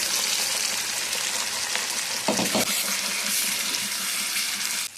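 Gravy pours into a pan of chicken tikka masala with a steady liquid rush and faint sizzle that carries on throughout the clip, with no talking.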